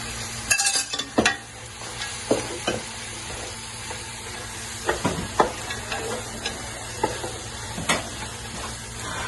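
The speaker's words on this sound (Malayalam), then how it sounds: "നന്നായിട്ട് ഇതിൻ്റെ മസാലയൊക്കെ ഒന്ന് പിടിച്ച് നല്ല ഡ്രൈ ആയിട്ട് വരുന്നത് വരെ ഒന്ന് കത്തിച്ചിരിക്കും" Masala gravy sizzles steadily in a pan while a spoon stirs it, with intermittent scraping clicks against the pan over a constant frying hiss, close by and without speech.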